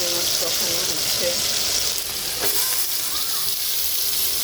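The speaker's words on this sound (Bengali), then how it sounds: "এখানে চিংড়ি মাছ কষানো হচ্ছে।" Prawns sautéing in a pan, a steady, loud sizzling hiss with occasional stirring scrapes throughout; a voice speaks faintly beneath it.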